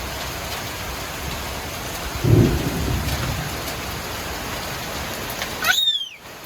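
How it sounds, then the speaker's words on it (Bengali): Hail and heavy rain pour steadily onto a balcony garden, with a low thunder rumble building midway; a brief high chirp cuts in near the end before the downpour drops off. "শিল পড়ছে ঝুপঝাপ করে"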